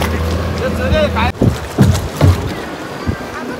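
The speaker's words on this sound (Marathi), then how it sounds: "बऱ्याचशा बोट आले तिकडे" Boats on the sea at a scuba diving spot off Bhogave Beach, with motor and water noise under wind buffeting the microphone, a sharp knock midway, then low thumping swells; voices are heard faintly.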